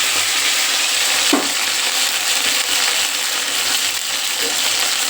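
Ginger paste and green chilli fry in a pan with a continuous close sizzle and a couple of soft stirring knocks, no talk over it.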